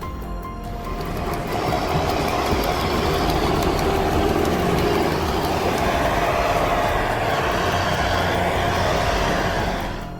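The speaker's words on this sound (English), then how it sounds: "that exhaust sound is what makes this tractor memorable" A John Deere 6820 tractor with a turbocharged 6.8-liter engine runs steadily, its exhaust giving a continuous loud rumble with a rough, throbbing drone that holds at an even level for the whole stretch.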